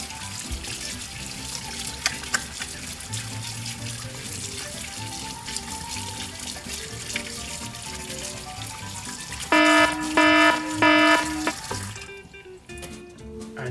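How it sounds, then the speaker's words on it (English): Tap water runs steadily into a sink during a handwashing demonstration, a continuous hiss and splash, with a brief burst of music near the end. "So it's really important that we wash our hands."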